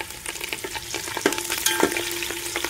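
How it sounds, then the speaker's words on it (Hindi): Green chillies sizzle in hot oil with garlic and ginger for khichdi, with a constant close frying hiss and scattered spatters and stirring clicks, no voices. "अब इसमें हरी मिर्च डालेंगे, हरी मिर्च डाल देते हैं।"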